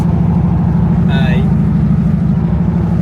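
A 1966 Ford Galaxie 500 convertible's engine runs with a deep, steady rumble close by, while a person talks briefly over it partway through.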